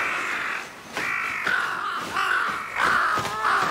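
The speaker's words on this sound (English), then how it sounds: "Crows?" Crows caw repeatedly in the Demon Slayer anime, loud harsh calls coming in several bursts close together, with no talk over them.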